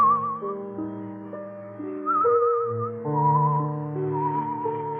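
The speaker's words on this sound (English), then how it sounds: "You whistle yourself like that very often?" A person whistles a sustained tune with vibrato on the long notes over a soft orchestral backing of held chords. The melody is close and clear, moving through several phrases.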